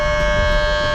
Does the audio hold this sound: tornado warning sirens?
yes